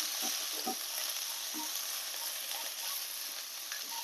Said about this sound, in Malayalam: പുതിനയില്ലേ ഒന്ന് നന്നായിട്ടൊന്ന് വേവിച്ചെടുക്കാം